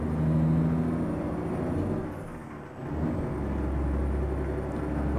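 In the American Truck Simulator game, a Mack R700 truck drives along with a steady low engine drone and rumble, the pitch dipping briefly midway before settling again, with no voices.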